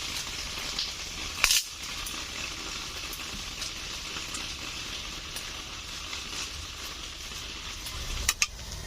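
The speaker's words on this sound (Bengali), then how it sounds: "মশলাগুলো ভাজা ভাজা হয়েছে" Spices with ginger and garlic paste frying in a pan, a soft, steady sizzle broken by a few sharp utensil clicks and taps near the start and end, with no talking.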